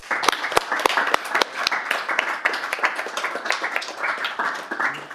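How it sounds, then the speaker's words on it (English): Applause at a city council meeting honouring Wally, with sharp individual claps standing out over a lively, moderately sized crowd clapping continuously. "can we all just give Wally a big round of applause?"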